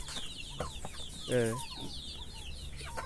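Backyard chickens cluck and call in short repeated bursts, one louder squawk standing out in the middle, with a person briefly speaking among them.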